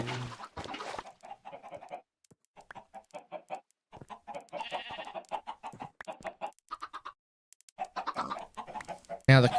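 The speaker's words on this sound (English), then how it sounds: "that sounded like a chicken was dying" A chicken in the video game Minecraft clucks in rapid repeated bursts over several seconds, with short pauses between squawky runs, fairly close and clear, with no talking.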